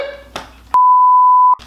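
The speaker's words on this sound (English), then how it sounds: "Beep." A loud, steady censor beep holds one pure tone for nearly a second, cutting off speech before and after it.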